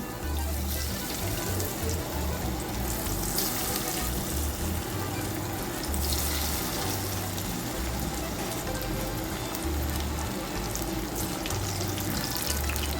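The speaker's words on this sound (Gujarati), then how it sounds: "હવે આપણે હવે એક એક કરીને બધા તળવા નાખીશું ફાસ્ટ ગેસે તળવાના" Corn tikki deep-frying in hot oil over a high flame, a dense continuous bubbling sizzle that stays loud and even throughout, with a faint low hum underneath.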